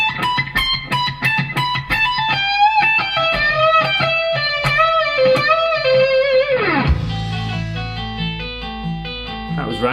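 An electric guitar with distortion plays a slow lick, picking distinct notes in a steady rhythm that descend into a bending slide, then a ringing chord sustains to the end.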